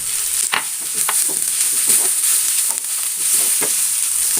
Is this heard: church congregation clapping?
no